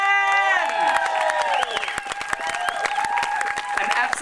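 Outdoor crowd at Sydney's Gay Mardi Gras Fair Day applauding and cheering for a band, dense steady clapping with whoops and shouted voices mixed in, loud and sustained throughout.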